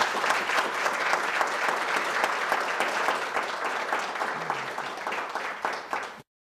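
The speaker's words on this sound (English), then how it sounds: "why don't we give a very warm round of applause to Professor Hahm" Steady audience applause in a lecture hall, welcoming Professor Hahm and guests before a talk on modern Korean identity, dense and sustained for about six seconds before cutting off abruptly.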